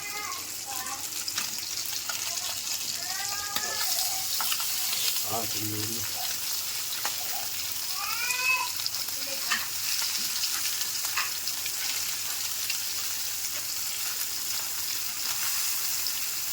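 Boi fish fry in a pan with a continuous loud sizzle, while a utensil scrapes and clatters briefly as the pieces are flipped. Faint speech sits under the frying.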